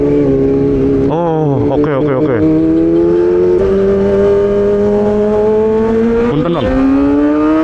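A Kawasaki ZX motorcycle engine idles with a strong tonal hum and rises into several sharp revs, then settles to a steady drone before revving again, loud and close, with a brief spoken exclamation over it.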